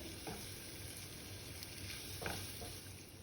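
Paneer cubes with a masala coating roasting in a pan, a steady close sizzle with a few soft stirring scrapes running through it, and no talking.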